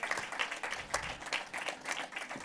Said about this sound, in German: Dein Applaus, da kommt er.